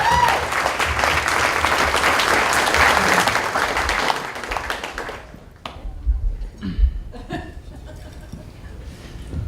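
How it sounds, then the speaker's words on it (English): Sustained audience applause at a father's wedding-style speech in a venue, dense clapping for about five seconds before tapering into scattered claps and faint chuckles. "A big round of applause"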